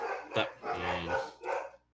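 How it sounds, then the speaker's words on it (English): Dogs bark nearby in three quick, loud bursts within two seconds. The barks are rough and throaty, with a short gap before the last one. "sorry about my dogs."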